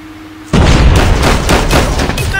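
Loud shots from an XPR-50 semi-auto sniper rifle in Call of Duty Mobile on iOS, a sudden heavy report followed by several repeated booming blasts spaced through the rest of the clip amid game noise.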